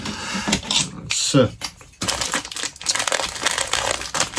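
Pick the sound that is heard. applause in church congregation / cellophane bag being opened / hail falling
cellophane bag being opened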